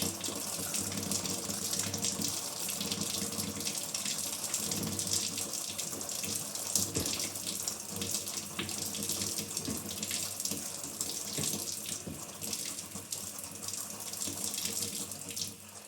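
A Quooker PRO 3 faucet runs filtered water into a sink while purging air from the system, a constant hissing rush with small irregular spurts and sputters, close and continuous.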